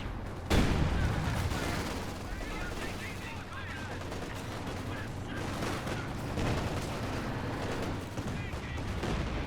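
Dense, continuous gunfire and rocket blasts from a Company of Heroes 2 multiplayer battle, with a sharp loud impact early on followed by sustained rattling machine-gun bursts and explosions throughout.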